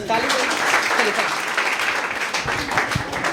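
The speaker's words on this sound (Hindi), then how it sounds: "चलिए एक बार ताली बजाइए" Students clap together in a sustained burst of applause at a coaching centre, dense and close, with voices mixed in under the clapping.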